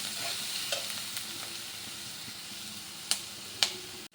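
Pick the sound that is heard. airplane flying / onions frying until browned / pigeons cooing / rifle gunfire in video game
onions frying until browned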